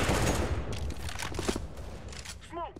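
A rapid burst of video game gunfire crackles loudly at first, then thins into scattered shots, with a voice speaking briefly near the end.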